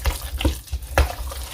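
Two eggs stirred into a seasoned mixture with a spoon, giving a few soft scraping, sloshing strokes against the bowl, close and moderately quiet.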